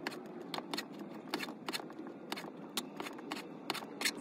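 Knife or scissors cutting through cinnamon roll dough into quarters, a series of sharp, brief slicing and scraping clicks at an uneven rhythm, close by and fairly quiet, with no one talking.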